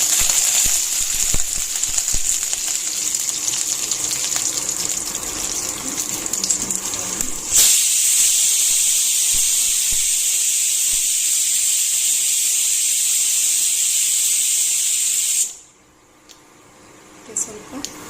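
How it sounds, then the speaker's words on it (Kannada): Mustard seeds, cumin, urad dal and curry leaves sizzle hard in hot oil for a Mangalore-style avalakki tempering, a loud steady hiss that surges midway, then cuts off abruptly near the end. "ನಾವು ಈ ಕಡೆ ಅವಲಕ್ಕಿಗೆ ಒಗ್ಗರಣೆ ಮಾಡ್ಕೊಳ್ಳೋಣ"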